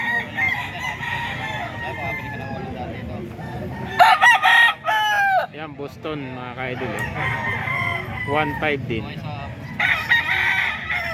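Gamefowl roosters at a Grotto farm crow repeatedly, several loud, drawn-out crows overlapping from different distances, mixed with clucking and someone talking between them.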